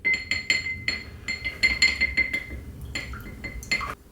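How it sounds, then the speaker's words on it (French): A pastry brush mixes egg yolk into milk in a bowl, producing rapid, close clinks and taps against the glass in an uneven rhythm. "dans le lait, je verse mon jaune d'œuf et avec le pinceau, je vais mélanger"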